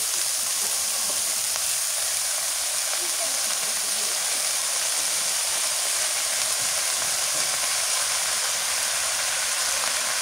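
Radish greens sizzle as they go into a frying pan with shrimp. A steady, loud hiss fills the whole stretch, and a voice talks faintly underneath.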